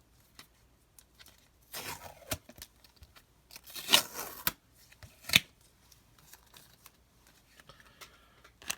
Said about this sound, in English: Let me get this tape off.